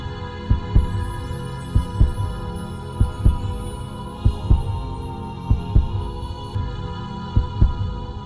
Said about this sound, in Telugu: నీ బిడ్డ గుండె చప్పుడు నాకు వినిపిస్తోంది.